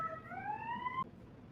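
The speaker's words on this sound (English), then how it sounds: "Oh, I have another siren." An emergency vehicle siren passing outside: a single steady rising wail, fairly faint and distant, holding for about a second before cutting off abruptly, leaving low background hum and no voices.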